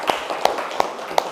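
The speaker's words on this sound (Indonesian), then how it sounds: "Berikan tepuk tangan." Four slow, distinct claps ring out in a classroom, evenly spaced and close, with faint room noise between them.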